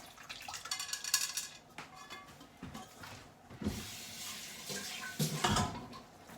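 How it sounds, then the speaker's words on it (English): Water poured into a pan of tomato sauce, splashing and running water with clattering of the pan and can in bursts, close by and moderately quiet, with no talk. "You wanna put a little bit of water"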